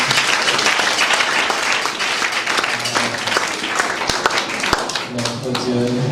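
Congregation clapping steadily through a church worship song, dense continuous applause with a singing voice and music underneath, close and loud throughout.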